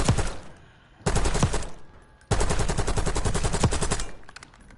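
Automatic weapon fire from the video game Black Ops 6, heard as three sustained bursts of rapid, evenly spaced shots with brief gaps between them, loud and alone with no voices.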